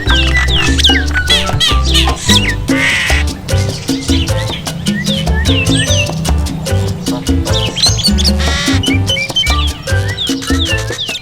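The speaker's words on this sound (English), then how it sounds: "the birds of the air loved Jabuti's music, and they sang when he played" A dense, loud chorus of birds chirps, tweets and calls without a break, many overlapping songs rising and falling close by.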